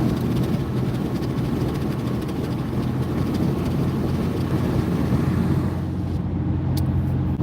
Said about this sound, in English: I want you to hear this road noise again.